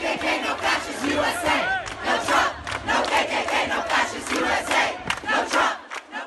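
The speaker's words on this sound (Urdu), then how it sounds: ""یہ میرا صدر نہیں ہے" کے نعرے لگائے" A large crowd of anti-Trump protesters chants "This is not my president" and shouts continuously, voices rising and falling in waves, loud and steady throughout.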